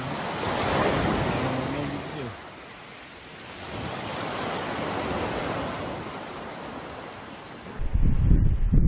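Sea waves wash onto a Turkish beach, the surf swelling and receding in broad roaring surges, with a gusty wind buffeting up close in the last second.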